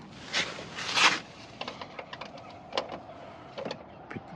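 A bolt on the door check strap of a Renault Megane 3 being loosened with a 5 mm hex key: scattered faint clicks and scrapes, with a couple of louder rustling bursts near the start.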